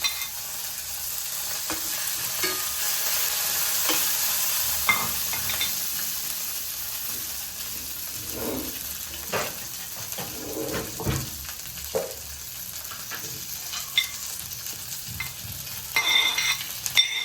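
Cumin, green chillies, coriander and curry leaves sizzle and fry in hot oil while being stirred, giving a steady close hiss with scattered scraping and clinks of a utensil against the pan.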